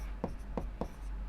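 Writing an answer on a classroom board: three short, quick scratchy strokes, evenly spaced and fairly close, with a quiet room in the background.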